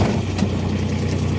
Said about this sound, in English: It's going to be powered by a Kubota D902 3-cylinder diesel engine.